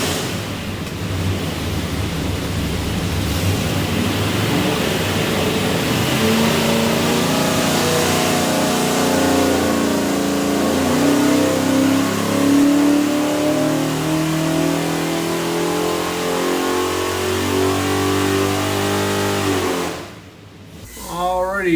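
A 427ci Ford FE V8 built for a 1966 Mercury Comet Cyclone GT, with front sump pan and serpentine belt, revs up on a dyno, a loud sustained climbing roar that holds high then drops off sharply near the end.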